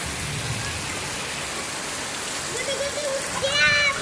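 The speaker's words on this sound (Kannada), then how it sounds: "ಮಳೆ ಅಂತೂ ಭಾಳ ಜೋರದ ನೋಡ್ರಿ." Heavy rain falls outdoors in a village, a steady, broad hiss of drops on surfaces throughout, with a brief voice rising over it near the end.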